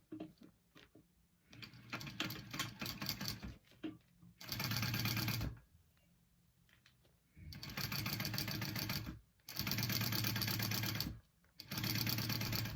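A sewing machine top stitches a tote bag strap, running in loud, steady bursts of rapid stitching separated by short pauses.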